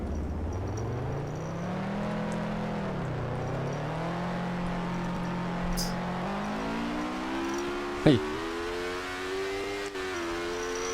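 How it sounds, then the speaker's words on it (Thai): A motorcycle engine in the video game Roblox Trucking Empire revs and whines steadily, its pitch dipping and climbing as the throttle changes, with a short sharp click partway through and no talk. "เครื่องยนต์เนี่ยเครื่องยนต์ดังอยู่นะ"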